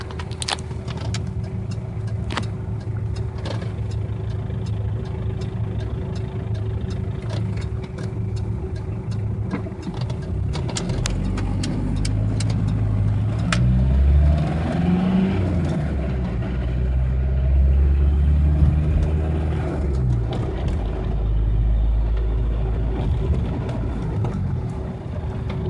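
A Ford Ranger with a 2.3 turbo diesel engine accelerates from a standstill, its steady engine drone rising in a heavy low rumble through the middle of the run, heard from inside the cab with no talking.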